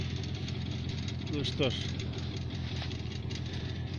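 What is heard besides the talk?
engine idling while warming up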